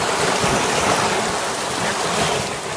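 Water flows through pipes at a tidal inlet beside a greenway bike trail, a steady, loud rushing wash with no break and no voices.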